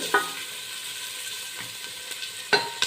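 Onions fry in a pan for a Malnad-style mutton sukka, giving a steady sizzle broken by a few sharp clinks and scrapes of stirring.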